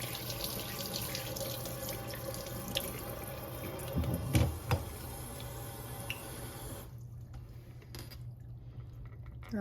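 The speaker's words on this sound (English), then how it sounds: "Rinse it off." A DASH mini waffle maker being rinsed under a running kitchen tap, with a steady stream of water splashing continuously and a few brief knocks and drips near the middle before the flow quietens.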